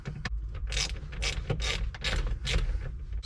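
Ratchet wrench backing out T20 screws inside a car, a rapid, close clicking of the pawl in short irregular bursts with brief gaps between turns.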